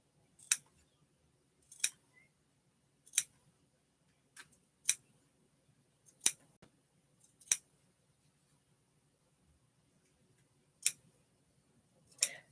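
Scissors snip during sewing of a quilted bear pattern: about nine sharp, isolated cuts spaced roughly a second or more apart, close and crisp against near silence.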